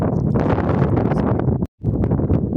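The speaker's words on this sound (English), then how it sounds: "Just windy." Wind buffets the microphone at the Valley of Desolation near Graaff-Reinet in a loud, continuous roar and rustle that drops out briefly near the end before returning.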